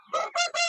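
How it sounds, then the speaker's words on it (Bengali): Chickens on a poultry farm of Aseel fighting birds, giving three quick, loud, close squawking calls in a row with brief gaps between them. "অনেক সুন্দর সুন্দর মুরগি"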